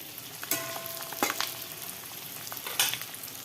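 Quiet crackling sizzle of eggs and potatoes frying in oil, with a few louder scrapes and clatters from stirring.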